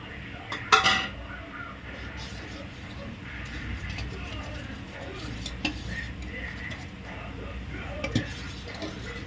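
A spoon knocks against a pot as chopped cashews and almonds go into thickened basundi, with a sharp clink near the start, scattered softer taps after it and faint kitchen background noise throughout.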